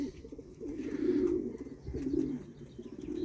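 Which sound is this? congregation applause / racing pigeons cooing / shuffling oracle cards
racing pigeons cooing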